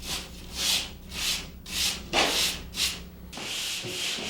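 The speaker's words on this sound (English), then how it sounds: "A dry sanding sponge and a folded piece of sanding screen help me smooth out hard to get at areas" Repeated rhythmic strokes of a dry sanding sponge on an inside drywall corner, a dry abrasive scrubbing back and forth about six times, close and steady, with no voices.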